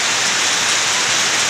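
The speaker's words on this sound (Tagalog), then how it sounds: "Grabing lakas ng ulan dito." Heavy rain pours down in a dense, continuous hiss, loud and close, with no other sounds.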